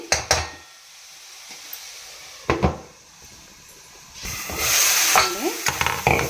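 Leafy greens frying in oil for a vegetable curry, sizzling under intermittent scraping and knocking as a spoon stirs against the pan, swelling into a louder hiss toward the end.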